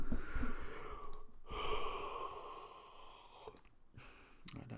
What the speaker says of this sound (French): je suis désolé pour les bruits de bâillement